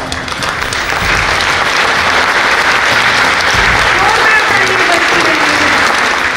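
An award ceremony crowd at the Champions of Change Madhya Pradesh event applauds loudly and continuously, a dense roar of clapping with some voices mixed in beneath.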